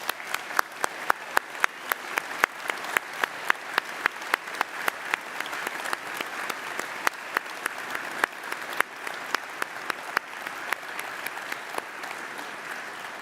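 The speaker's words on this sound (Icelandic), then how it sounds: "Og nú skulum við klappa." An audience claps at a graduation ceremony, a dense, steady patter of many hands at moderate distance that holds evenly for over ten seconds with no talk.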